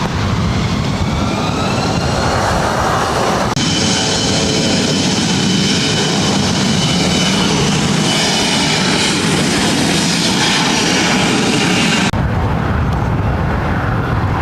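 Airliner taking off at LAX, a loud continuous roar of jet engines that swells and shifts in tone while the aircraft accelerates, with no talk over it.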